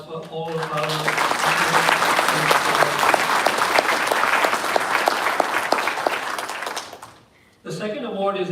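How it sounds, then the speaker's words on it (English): Sustained audience applause fills a graduation ceremony for pharmaceutical sciences students, steady and dense for about seven seconds, then cuts off as a voice begins speaking. "Let's give a round of applause for all of our."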